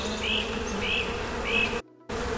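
Honey bees buzz steadily at an open hive, a dense close drone with a few higher whining passes, cutting out briefly near the end.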